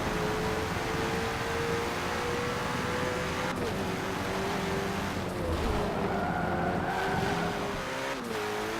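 A mid-engine McLaren 720S in Forza 7, its engine note holding through long corners in third gear, then dipping on lift-off and climbing again, with faint tyre scrub, loud and without talk.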